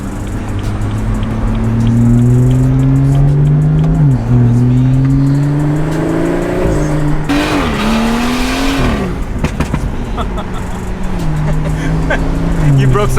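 A 2016 BMW M Sport car accelerating hard and close, its engine note climbing through the revs with a few quick shifts and a brief tire-squeal burst midway.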